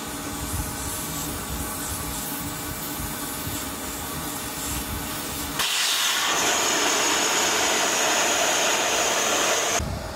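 Air blows through swimming pool lines to winterize them, making a loud, continuous hissing rush. Partway through it jumps to a harsher, brighter blast as the airflow changes.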